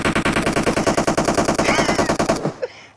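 Rapid automatic gunfire in the BGMI video game, a loud continuous burst of evenly spaced shots lasting over two seconds before stopping abruptly, with a faint thud after.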